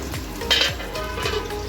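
Pointed gourd (potol) frying in a pan gives a close, steady sizzle, with a few soft stirring scrapes and clinks scattered through it.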